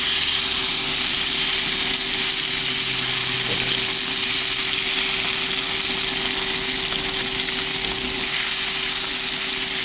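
Beef oxtail pieces fry on a flat griddle inside a food truck, a steady dense sizzle running the whole time with a constant hum of equipment underneath and no talking.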